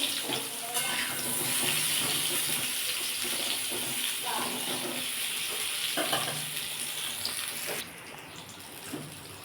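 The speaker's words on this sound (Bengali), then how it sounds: "পটলটা ভালো করে ভেজে নেবো" Pointed gourd frying in oil with turmeric, a dense steady sizzling hiss close up with a few soft stirring knocks, easing slightly toward the end.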